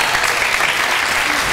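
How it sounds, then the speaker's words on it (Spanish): A studio audience bursts into steady, dense applause for contestants Ever Rodríguez and Gabriela Zárate on a Spanish-language TV show, loud and close, with no talk over it. "Un aplauso para"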